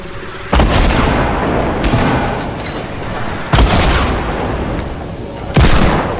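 Heavy booming gunshots ring out in a team rumble video game, with three big blasts spaced a few seconds apart, each followed by a dense, rumbling tail that fills the gaps. No voices.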